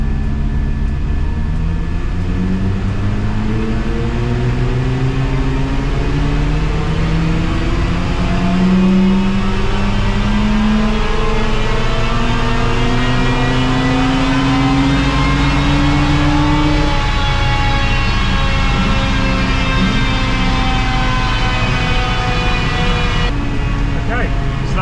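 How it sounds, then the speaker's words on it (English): A Mazda RX8 rotary engine makes a wide-open-throttle pull on a dyno, rising in a long loud sweep of revs to a peak before backing off, heard close and alone. "that was a wide open throttle pull"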